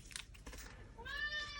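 A pet cat named Louis meows once, a drawn-out tonal call rising near the end after some soft rustling and handling noises close by.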